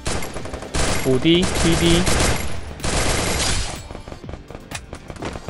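MP40 submachine gun in the Free Fire mobile battle royale shooter, firing loud, very rapid bursts of close gunfire that stop and restart, with a voice speaking briefly over the shots.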